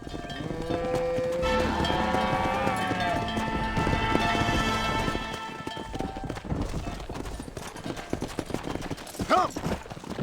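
A cattle herd moves with horses on a ranch in Red Dead Redemption, with hooves clip-clopping, cowbells clanking and low lowing under a busy ambient mix that thins out toward the end, while a voice speaks briefly.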